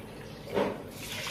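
Water pours into a pressure cooker holding rice and split moong dal for sweet pongal, a short splashing gush that swells midway and trails off, close and fairly loud.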